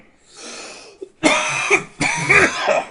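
Two harsh, loud coughs close to the mic, preceded by a softer breathy throat sound, with a short pause between the coughing bursts.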